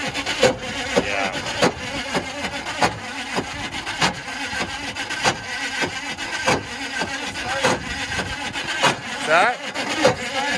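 A Jeep 4x4 engine runs with a fan catching and striking something inside the motor, giving a steady series of sharp knocks and rubbing clatters over the running engine, with voices talking at times.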